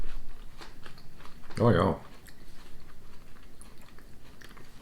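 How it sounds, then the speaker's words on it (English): A crunchy Austrian chocolate wafer with thin wafer layers and lots of filling is bitten with one loud close crunch, followed by quieter chewing while a person speaks briefly. "Just a little bit of the crunchy wafer, but a lot of that filling."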